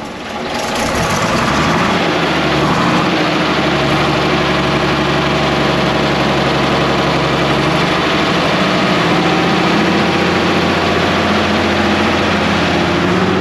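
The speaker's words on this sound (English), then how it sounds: "the engine's running nice" A Bristol VR double-decker bus engine runs steadily at idle, a deep, loud, continuous diesel rumble with no talking over it.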